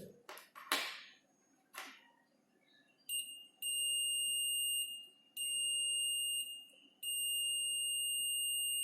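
A multimeter's continuity buzzer sounds in three long, steady high-pitched tones with short gaps between them, after a few quiet clicks and taps from the test probes.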